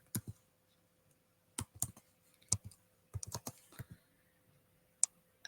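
Sparse bursts of keyboard typing, a few quick clusters of clicks separated by pauses, close and fairly quiet with no talking.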